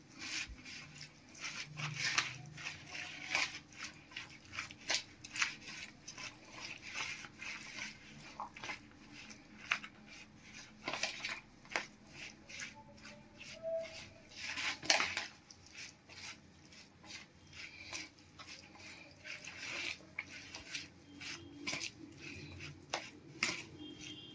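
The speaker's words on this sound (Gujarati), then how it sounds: "આપણે બધું બરાબર મિક્સ કરી લેશું" Vegetable sandwich filling with tomato ketchup is mixed in a bowl, with a spoon giving repeated light clinks and scrapes in an irregular rhythm throughout. The sound stays soft and close, and no one speaks.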